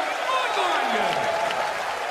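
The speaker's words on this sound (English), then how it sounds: "you see the round of applause" Crowd applause in a darts arena after a checkout at the European Darts Championship quarter-final, a continuous roar of clapping and cheering underneath a commentator talking over it with a sliding whistle-like tone.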